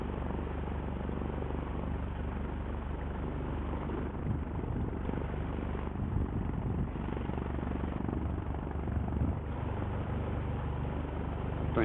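A simulated Piper PA-28-161 Warrior II piston engine idles in a flight sim, a steady, even drone that holds at constant loudness from start to finish with no talk.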